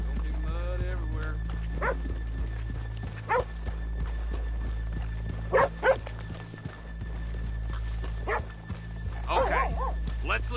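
Horses in Red Dead Redemption 2 snort and whinny, with soft hoof clops and an occasional dog bark mixed in, over a low steady background and people talking.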